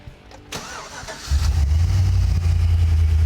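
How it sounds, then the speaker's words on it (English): A 1987 Chevy R10 diesel truck engine cranks briefly, then catches and settles into a loud, close, steady rumbling idle. "we got the truck running"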